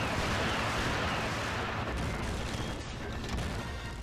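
Sentinel rocket launcher fired in unguided mode in the video game Nightfire, a heavy booming blast with a broad rumbling roar that holds loud and slowly eases over several seconds.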